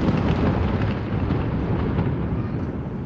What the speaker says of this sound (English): this is the bombing. They are gonna bomb a tower beside us